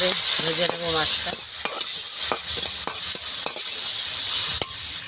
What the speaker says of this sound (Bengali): চিংড়ি মাছটা এখানে আস্তে আস্তে করে ভাজা হবে আমার তরকারির সাথে সাথে